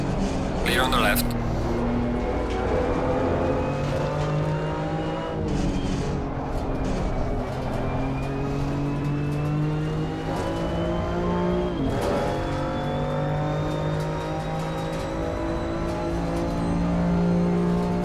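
BMW M2 CS race car lapping the Nurburgring in Assetto Corsa Competizione, engine revving and shifting repeatedly with rising pitches and sharp downshift blips, a constant close drone while a voice talks over it.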